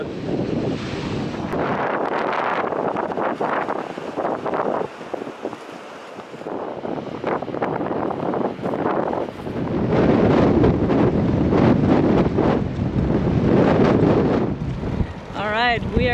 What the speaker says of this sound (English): hopefully we'll leave a bit of this crazy wind behind us as well